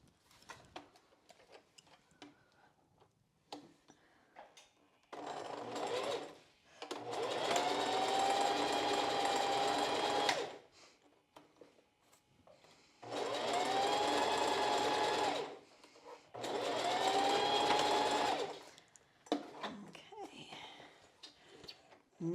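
A sewing machine stitches across the bridge section of a strapless bra at a quarter-inch seam, running in three sustained bursts of steady whirring separated by quiet pauses, close and alone with no talk.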